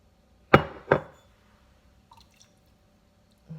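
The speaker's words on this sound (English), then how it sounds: "now I'm going to pour a half a teaspoon of this liquid smoke right over top of everything" Half a teaspoon of liquid smoke drips over pork for pulled pork barbecue: two sharp, close splats land a moment apart, followed by near silence with faint small clicks.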